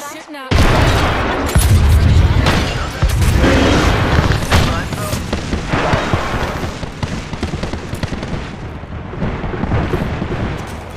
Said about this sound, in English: Bomb pods are shooting